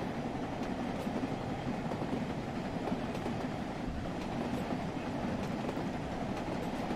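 Heard from aboard a relief train of carriages hauled by an LMS 8F steam locomotive at about 50 mph toward Crewe: a constant, moderately quiet rolling rumble with faint rhythmic wheel clatter and no voices.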